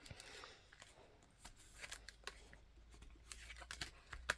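Scissors snip small white pieces of paper off a lapbook in quiet, close, irregular cuts with soft paper rustles between them.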